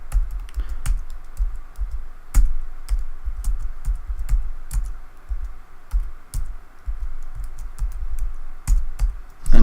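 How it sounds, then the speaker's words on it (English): Rapid, uneven clicking of keys on a computer keyboard, close and distinct, with taps bunching into quick runs and brief pauses throughout. "I just type something,"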